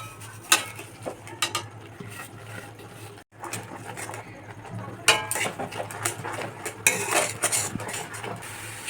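A utensil scrapes and knocks against a pan while fried vermicelli is stirred with sugar, an irregular series of close clatters and scrapes with a brief pause partway through.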